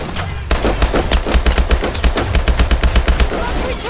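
Rapid automatic gunfire from a Call of Duty Advanced Warfare firefight, loud and close, with dense bursts of shots rattling in a fast steady rhythm after a brief quieter opening.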